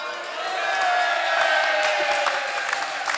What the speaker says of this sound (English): look at my cheerleaders, my dearest friends, cheering from there